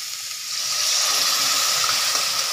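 Spice paste hits hot frying onions in a home fish curry pan, bursting into a loud, steady sizzle that swells after a brief quieter start and holds as a broad hiss.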